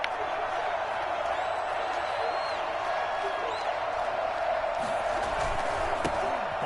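Steady roar of a home stadium crowd in a football video game, a constant wash of distant cheering and murmur with faint thuds and a commentator's voice running over it.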